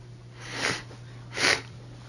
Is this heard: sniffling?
yes